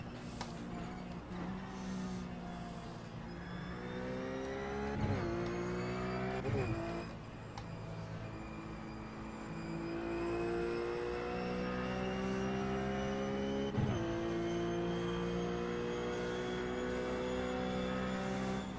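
Race cars, including a BMW and a Cadillac, roaring around the Spa circuit in the iRacing sim, a sustained engine drone with rising pitch sweeps as gears shift up and several sharp downshift blips.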